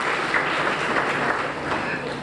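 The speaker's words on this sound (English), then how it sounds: "I want each and every one of you to give yourself a lot of applause" Outdoor audience at an agricultural field day on a university farm in Lonoke, Arkansas, claps together in a dense, steady wash of applause that holds at an even level for a couple of seconds.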